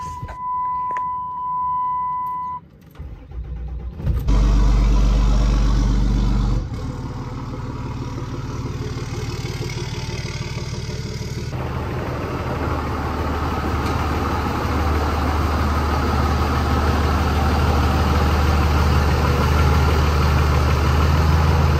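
Cummins diesel truck engine cranking and firing after a few seconds of quiet, then settling into a steady, rumbling idle with a deep low drone heard from inside the cab, lasting to the end.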